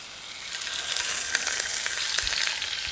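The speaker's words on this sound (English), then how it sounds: "so I'm going to get them in. Hear that nice sizzle?" Fish frying in oil that is just starting to smoke in a pan, giving a loud, steady, crackling sizzle with scattered pops throughout.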